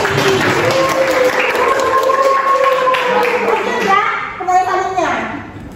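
A class applauds a student's correct answer, clapping under children's voices and chatter, loud and close, tapering off near the end.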